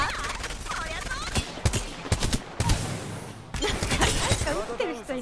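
Dense video game gunfire from a competitive custom match, with rapid bursts and scattered single shots, some sounding distant, crackling loudly and continuously while players talk over it.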